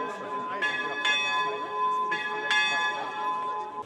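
The Hilliger bell at the Freiberg Christmas market opening, ringing with strong, sustained metallic tones, struck several times in a slow rhythm, each toll ringing out and overlapping the last.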